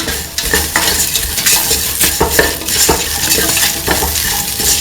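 Salt is mixed into a lentil, bell pepper and coconut milk stew in a pot, with loud, close, continuous stirring, wet churning and occasional utensil scrapes over a faint simmer.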